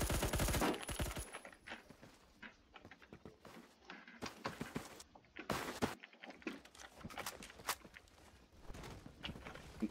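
Video game gunfire sounds as rapid, uneven bursts of shots mixed with pattering footstep-like hits, fairly faint and continuous across the scene.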